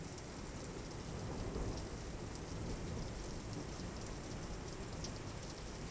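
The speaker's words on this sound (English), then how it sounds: "I can see the rain." Steady heavy rain pours through a night thunderstorm, a dense even hiss with low rumbling underneath that holds at constant loudness throughout, no voices.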